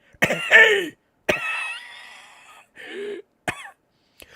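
A harsh, hacking cough bursts out in several rough fits separated by short pauses, close and fairly loud, with a throat-clearing rasp toward the end.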